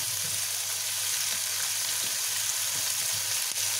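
Onions frying in a pot, a steady close sizzle with soft crackling throughout and no voices.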